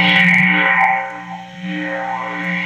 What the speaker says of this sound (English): you can tell there's, you know, definitely a flanger type or a phaser on the effect.